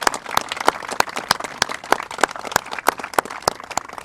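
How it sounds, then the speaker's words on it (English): A crowd applauds veterans at an outdoor hometown heroes banner ceremony in a park, with steady rhythmic clapping and a busy wash of many hands, moderately loud and close, with no voices on top. "Can we get a round of applause for..."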